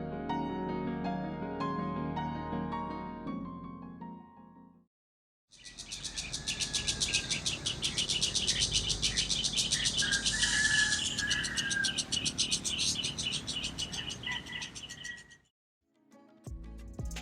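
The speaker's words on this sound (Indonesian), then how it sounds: "Pentet coklat mendapat nama ilmiah Lanius cristatus." Brown shrike (Lanius cristatus) calling in open country with tall trees, a run of harsh chattering notes and brief tonal phrases over a hissy background, alone and fairly clear, with a separate musical passage before it.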